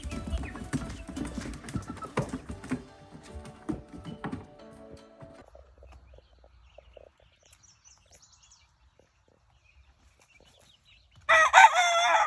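Backyard chickens in a finished run on a homestead: scattered clucks and light rustling come early, then a long near-quiet stretch, then a loud, close rooster crow bursts out at the end.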